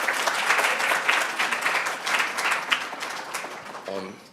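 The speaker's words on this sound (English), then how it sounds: "Please give yourselves a round of applause for taking the time to be here with us" A luncheon crowd at a Dr. King unity event breaks into a full round of applause, dense clapping with some cheering throughout, tapering at the end as a voice briefly begins to speak.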